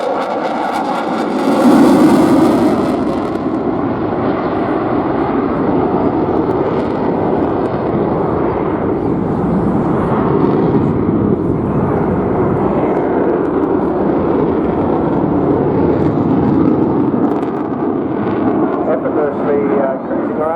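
A delta-wing jet aircraft's engines give a loud, steady, broadband roar that holds unbroken for the whole stretch, close and powerful.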